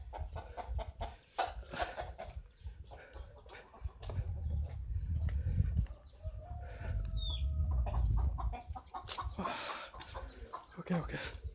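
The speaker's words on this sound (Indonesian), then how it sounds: "kalau jam segini banyak kan ayam ya" Chickens cluck and chatter nearby in an abandoned village in Majalengka, Indonesia, mixed with other bird calls, while people talk quietly in the background.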